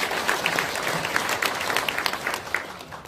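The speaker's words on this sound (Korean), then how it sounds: "큰 박수 다시 한번" Sustained applause from a seated crowd at a Democratic Party political gathering, a thick continuous patter of many hands clapping, loud and even throughout with no speech over it.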